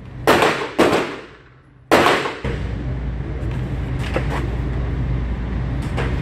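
Shots from a SAR P8S ported stainless steel pistol at a shooting range, three sharp loud reports close together, then a steady roar of wind or background noise with a few fainter distant shots.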